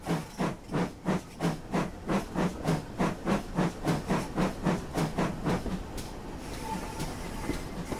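A pannier tank steam locomotive chuffing in a steady rhythm along a mainline, the beats quickening before fading into a hiss of steam and rolling rail noise.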